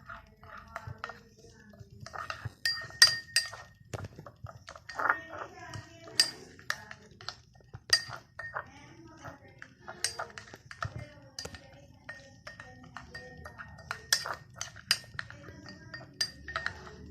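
Spoon clinking and scraping against a bowl while yogurt and a whitening capsule are stirred together into a rose face pack, a steady run of light taps and clinks with faint speech in the background.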